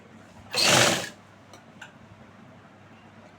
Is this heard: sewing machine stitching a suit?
yes